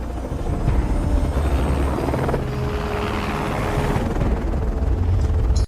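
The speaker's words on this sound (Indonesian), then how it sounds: "Setelah Claire dan yang lain berhasil kabur menggunakan helikopter" Helicopter lifting off in a film scene, its rotor and engine a loud, steady roar held throughout, close and unbroken, with no voices over it.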